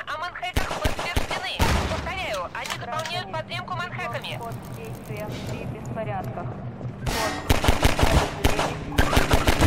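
Machine gun fire in Half-Life 2, rapid bursts of crisp gunshots that start and stop repeatedly, loud and close, with a voice and other game sounds between the bursts.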